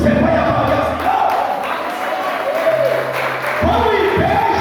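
A church congregation at a Lord's Supper service claps and calls out together, a loud, continuous crowd roar of applause and voices throughout.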